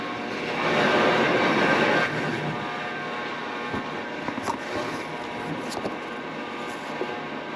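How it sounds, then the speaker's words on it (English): A heater system runs with a steady broadband roar in a room at an auction, swelling louder for about a second before settling into a constant hum with faint clicks and knocks. "Sorry about the noise again with the heater system."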